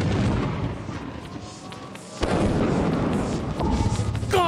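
A turret in the game Lethal Company fires in loud, booming bursts, a sustained rumbling barrage with a sharp crack near the middle.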